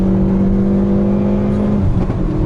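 A Hyundai Veloster N's 2-liter turbo gasoline engine, in N mode, downshifts and kicks down, giving a loud, sustained engine whir that climbs in pitch, with no talk over it.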